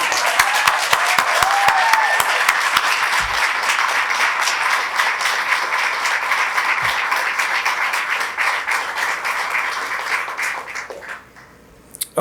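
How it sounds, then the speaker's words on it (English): A large audience claps warmly for two award recipients at the HWS 2023 Distinguished Faculty Award presentation, loud sustained applause that gradually thins and dies away near the end, leaving a few final claps. "how about an applause for these two incredible recipients?"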